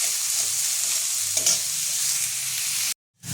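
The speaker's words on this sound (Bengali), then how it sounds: "পেঁয়াজটা আমি হালকা লাল করে ভেজে নেব।" Onions frying in a pan for a Bengali-style Hyderabadi chicken masala, a steady close sizzle with a few light stirring clicks, cutting out abruptly near the end.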